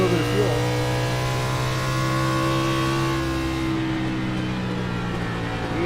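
A race car engine drones steadily in iRacing at the Iowa Corn 95, a sustained, fairly constant tone with layered harmonics under a commentator's voice.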